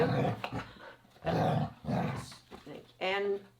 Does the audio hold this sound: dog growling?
yes